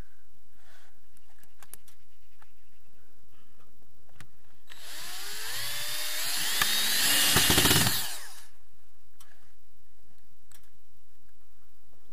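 A screwdriver drives self-tapping screws during a dacha veranda rebuild: a single loud, whirring burst of about four seconds, close by, with quiet before and after.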